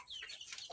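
A Black Australorp rooster and heritage chickens on an egg production farm give a brief burst of soft clucking, quiet and close.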